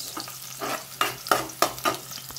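Ginger and onion drop into hot oil in a pot, setting off sharp sizzles in a few distinct bursts over a steady frying hiss, close and moderately loud, with nobody speaking.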